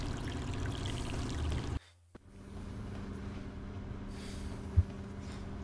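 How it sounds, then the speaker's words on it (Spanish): Water draining away in the Silent Hill: Homecoming video game, a steady rushing pour that cuts off abruptly, then gives way to a quieter low trickle and hum with a faint thud, no talk. "Sí, se está vaciando de agua."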